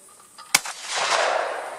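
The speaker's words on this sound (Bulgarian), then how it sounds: "Това колегата ще стреля с една френска пушка за маскови цели." One sharp, loud shot from an old French musket bursts out, followed by a long rushing, hissing roar as the discharge trails off.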